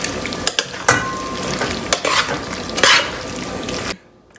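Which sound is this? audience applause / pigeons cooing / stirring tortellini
stirring tortellini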